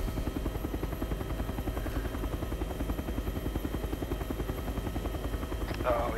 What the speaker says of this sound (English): Alright, Chinook's flying down to the right.